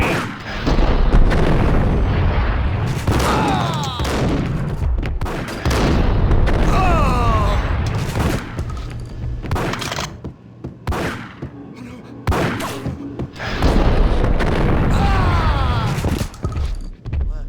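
Loud booming blasts and crashing bursts from a Max Payne game scene, coming in repeated heavy waves over about seventeen seconds, with a voice talking faintly beneath.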